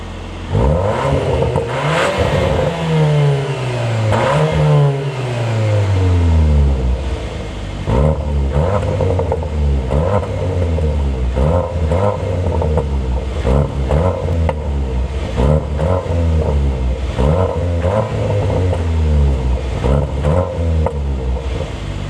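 A 2025 Cupra Leon VZ ST 333 hp 4x4 engine revs repeatedly in Cupra mode, climbing and dropping in pitch, loud and close, with rapid throttle blips in quick rhythm and no talking.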